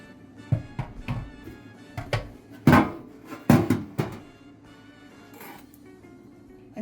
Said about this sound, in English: So the first thing we're going to do is we're going to slice up our sausage here.